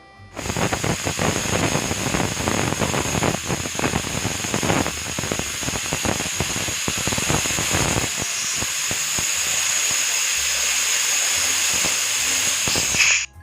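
A pressure cooker cooking mutton whistles with a loud, steady hiss of escaping steam, crackling bursts early on, running continuously without a break.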